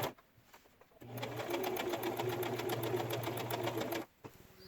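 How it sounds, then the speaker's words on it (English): A sewing machine winding a bobbin runs in a steady, fast whir for about three seconds, starting and stopping abruptly, close and clear with no talk. "time to wind the bobbin because I can't use black thread."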